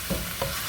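Ground turkey and vegetables seasoned with garlic powder, Maggi Pollo, Sazon and black pepper sizzle in a pan as they are stirred, two soft scraping strokes over a constant close hiss.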